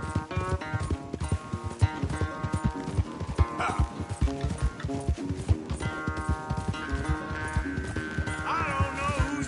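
A horse gallops in a rapid, steady clip-clop rhythm during a race in Red Dead Redemption 2, hooves thudding close and loud over a backing music score, with a brief whinny.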